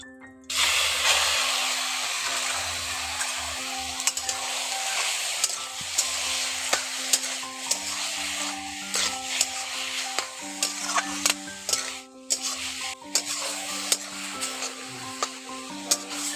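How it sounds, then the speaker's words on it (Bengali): Boiled bottle gourd frying and being stirred in melted ghee in a pan, a steady loud sizzle running throughout with frequent scraping stirs of a spatula, close up and without talk. "এখন ঘিটা গলে গেছে, এবার ওর মধ্যে আমি সিদ্ধ করে রাখা লাউটা দিয়ে দিচ্ছি।"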